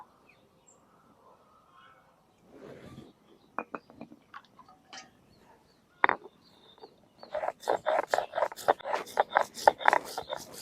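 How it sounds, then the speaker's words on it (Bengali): Cumin, ginger and garlic crushed by hand for a quail egg and potato curry, heard as a quiet start that builds into rapid, loud, rhythmic scraping and knocking strokes close by toward the end. "একটু জিরা আদা রসুন নিয়ে নিছি বাটবো"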